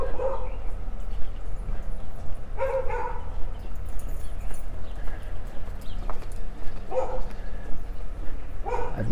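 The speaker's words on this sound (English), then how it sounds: "I don't know if my camera caught that lady walking her dog." A dog barks out in the street in Jerusalem, several sharp barks spaced a few seconds apart over a low rumble of ambient outdoor noise.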